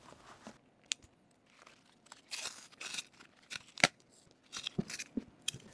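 Fabric and padded cover being torn and stripped off a stock bicycle saddle, heard as a series of close, irregular ripping, crunching and crinkling bursts with short pauses between.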